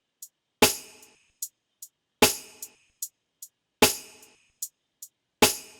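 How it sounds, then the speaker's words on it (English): Layered snare drum with a snap sample in a smooth R&B-style beat, hitting four times in a steady pattern with light ticks between, each crack bright and close with a short reverb tail. "Then this snare layered with like a snap that sounds like this."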